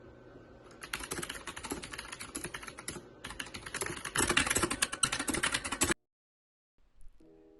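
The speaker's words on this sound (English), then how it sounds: "could you take a video of your mechanical keyboards? I want to know what it looks like, what it sounds" Rapid typing on a mechanical keyboard, dense clicky keystrokes in a steady close stream for about six seconds, growing slightly louder before stopping abruptly into silence.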